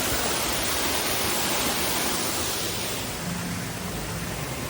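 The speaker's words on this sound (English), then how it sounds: "you can actually step right up on into the waterfall" A waterfall at Toverland theme park, heard up close as a loud, continuous broadband hiss of falling water that stays steady throughout.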